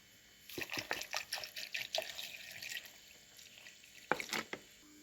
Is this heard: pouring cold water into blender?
yes